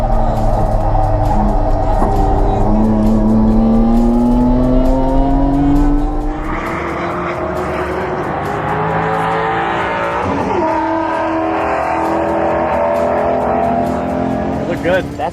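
A race car flat out on a fast straightaway at around 140 mph during the 2017 One Lap of America, heard from inside as a loud sustained engine drone that rises and shifts pitch, with people talking over it.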